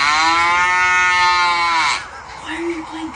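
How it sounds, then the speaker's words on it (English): A cow moo is played back through a speaker, a loud sustained bellow of nearly two seconds, after which a person briefly speaks over quieter background. "Turn the freaking barn animals off!"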